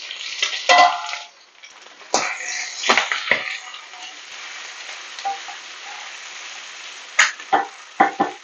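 Liver fry sizzling and frying in a pan, with a continuous bright sizzle broken by several sharp spoon stirs and clatters, close by and fairly loud, without speech.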